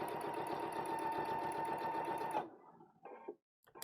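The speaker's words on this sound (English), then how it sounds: "I sew in the ditch all the way around." A sewing machine stitches in the ditch around the binding of a bag, running in a steady, loud mechanical whir for over two seconds before stopping, followed by a few brief handling noises.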